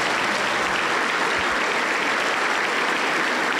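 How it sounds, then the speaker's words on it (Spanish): A Pentecostal church congregation in Huancayo claps in sustained, dense applause, loud and even from start to finish with no voices over it. "Recibimos con fuerte aplauso para el Señor Jesús."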